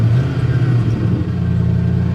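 A stolen Ford F150 truck engine idles high and steady, a loud, continuous low rumble up close with a slight uneven waver, running alone without talk.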